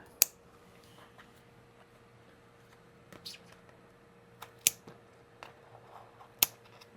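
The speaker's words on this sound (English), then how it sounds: "I'm gonna take scissors to the moss and cut the roots" Scissors snipping through moss and plant roots while repotting a houseplant, a few sharp, crisp clicks spaced out over several seconds against a quiet room background.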